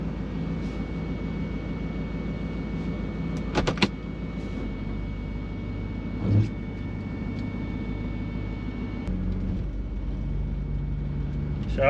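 A tuned 600 hp Mercedes S124 with a turbocharged V8 drives along, its steady engine and road drone filling the cabin with a brief clunk and whoosh partway through.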